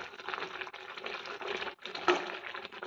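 Water poured into a cooking pot while making old-style vermicelli, a soft, steady splashing stream that pauses briefly midway and then resumes, quiet and close.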